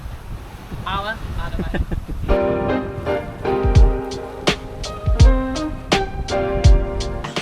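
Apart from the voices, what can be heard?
wind blowing on a sailboat at sea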